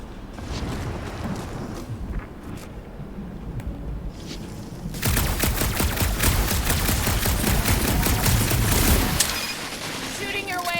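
Gunfire in the Marvel's Guardians of the Galaxy game, with faint windy rumble and scattered shots at first, then a sudden loud burst of rapid automatic firing lasting several seconds before cutting off, followed by quieter ambience.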